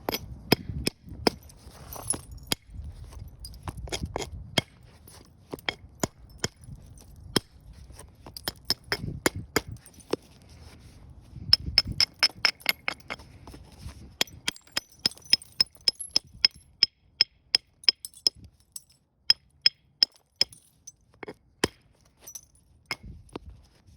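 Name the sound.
antler striking obsidian, flintknapping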